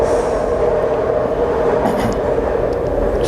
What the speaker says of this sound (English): Another demon train is passing.